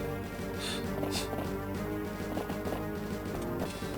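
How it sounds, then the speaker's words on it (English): Horses in the Andaron Saga video game move in a rhythmic stream of hoof clip-clops, dense and continuous under a busy musical game soundtrack. "Alright, so all the horses are moving."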